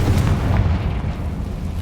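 Confringo explosion spell going off in Hogwarts Legacy, a close, loud, low rumbling boom that sustains across the whole moment without any talk.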